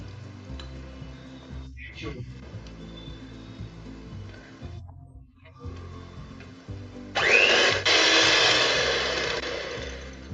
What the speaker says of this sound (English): In a mixing bowl, add in the butter and sugar, beat this well.